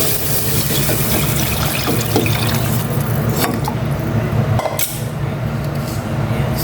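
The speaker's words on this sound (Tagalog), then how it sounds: "Maglalagay na ako ng tubig." Water pours steadily into a cooking pot for pork sinigang, a continuous splashing rush that holds at one level for several seconds with a few brief drips and clinks near the end.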